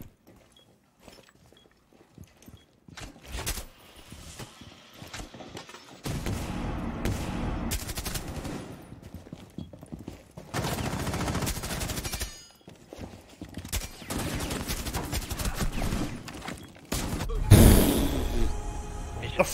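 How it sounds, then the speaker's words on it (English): In the game Siege, gunfire comes in repeated loud bursts of rapid automatic shots separated by short pauses and quieter moments. A gasp or sigh breaks in near the end. "The fucking noise this gun makes."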